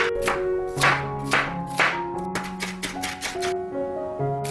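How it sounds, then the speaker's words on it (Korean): A knife finely chopping half an onion on a cutting board, crisp irregular taps in quick clusters, close and clear, with faint musical tones lingering underneath. "양파 반 개는 잘게 다져 주세요."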